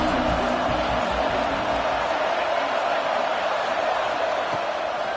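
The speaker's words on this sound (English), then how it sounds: "This crowd ready to make its presence known." Stadium crowd in the College Football 26 video game gives a loud, continuous broadband roar that holds steady across the clip.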